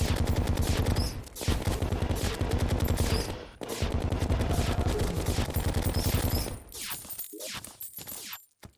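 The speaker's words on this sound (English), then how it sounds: "Mega Shark with explosive bullets is hilarious." Rapid, continuous automatic fire from the Megashark gun loaded with explosive bullets in Terraria, loud and dense, broken by two brief gaps and thinning into scattered bursts and blasts near the end.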